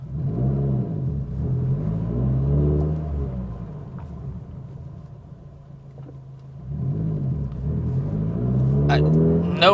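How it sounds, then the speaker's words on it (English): A 2022 Subaru WRX fitted with a Perrin pitch stop revs and pulls away, its engine rumbling and rising in pitch, fading slightly mid-clip before climbing again, with someone talking over it. "You can hear the motor."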